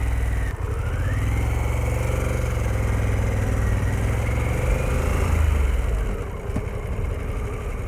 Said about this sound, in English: The engineers knew what they were doing with the exhaust that is on this bike.